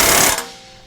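Impact tool tightening bolts on a Pioneer 1000 side-by-side, a brief loud buzzing rattle that cuts off after a fraction of a second.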